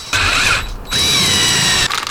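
A power driver sets screws into the plastic flange of a roof vent fan on a van roof, giving two bursts of close mechanical whirring and ratcheting with a short gap between them.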